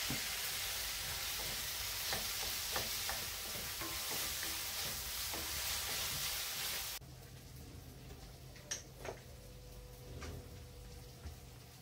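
Onions and tomatoes sautéing in a home kitchen pan: a soft, continuous sizzle with light stirring scrapes, which suddenly drops to a quieter hiss partway through, with a few faint clicks and knocks after.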